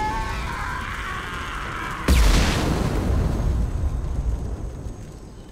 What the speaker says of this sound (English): Slow motion walk away from an explosion.